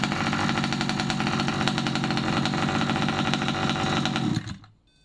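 Small petrol engine of a Rovan AS1 Baja RC buggy runs close by at a buzzy, rattling idle, then cuts out abruptly near the end, leaving near silence.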